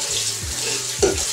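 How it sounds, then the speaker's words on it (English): Fresh water runs from a tap into a pot being readied for banana porridge, a short steady gush with a small splashy bump near the end, close and clear. "So we're going to add some water,"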